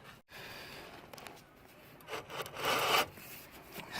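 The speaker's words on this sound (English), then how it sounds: "but it does rotate. That is rough. That's a lot of friction." A Ford Ranger brake rotor turns against a worn pad, giving a rough, gritty scraping rub that swells in irregular strokes and grows louder toward the end, close up with no talking.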